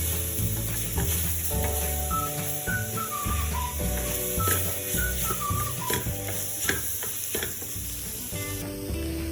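Chopped tomato and green chillies frying in masala for a Kerala-style beef curry, a continuous close sizzle and hiss heard beneath a loud melodic music track.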